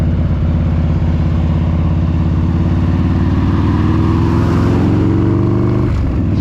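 A 1992 Harley-Davidson FXR motorcycle engine pulls hard and loud up through the revs while overtaking, its rising V-twin drone steady and close throughout with no talk.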